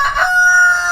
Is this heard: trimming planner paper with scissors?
no